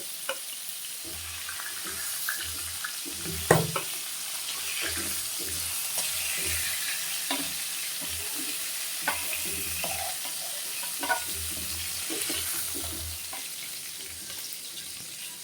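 Pieces of boal fish fry in hot oil with a steady, close sizzle that runs the whole time, broken by occasional soft knocks and scrapes from stirring.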